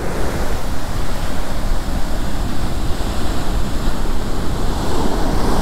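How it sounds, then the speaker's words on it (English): Ocean waves wash back across a beach in steady, continuous surf, loud and close, with broadband roar and wind on the microphone and no voices. "just right there where the waves are washing back on the beach"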